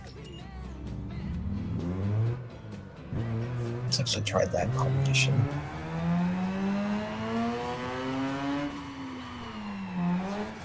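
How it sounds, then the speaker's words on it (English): In Need for Speed Underground 2, a rotary-engine car revs hard, its buzzing, rising and falling engine note climbing steadily with brief tire noise, heard under a player talking. "That's exactly like a rotary engine, what the hell?"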